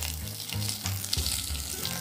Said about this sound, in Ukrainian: в сотейник наливаємо растительне масло, закидуємо і обжарюємо овочі